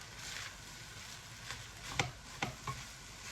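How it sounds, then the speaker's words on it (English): Prawn fried rice is stirred in a pan, producing soft scraping and gentle sizzling with a few sharp clinks of the utensil against the pan, quiet and close, with no talking. "But I like to stir, my rice first before I add any oyster"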